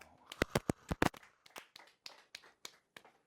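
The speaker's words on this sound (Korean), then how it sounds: "박수 한번 쳐주세요." Students clap in a classroom: a burst of sharp, uneven hand claps, loudest at first, then thinning into scattered separate claps over a few seconds, with no talk.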